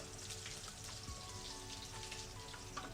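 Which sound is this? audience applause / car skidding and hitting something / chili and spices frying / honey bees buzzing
chili and spices frying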